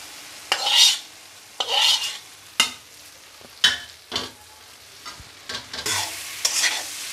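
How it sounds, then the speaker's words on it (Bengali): Fried bitter gourd and potatoes being stirred into a simmering rohu fish curry, a spoon scraping through the pan in several distinct strokes over a faint oily sizzle, close and fairly loud with no talking. "এখন আমার ভেজে রাখা হচ্ছে করলা আর আলুগুলোর মধ্যে দিয়ে দিব।"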